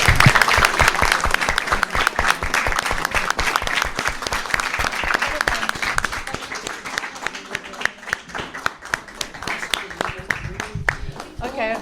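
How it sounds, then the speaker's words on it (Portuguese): An audience in a school library claps after a children's debate, sustained dense applause lasting the whole stretch and gradually thinning toward the end, with voices faintly underneath. "Uma salva de palmas."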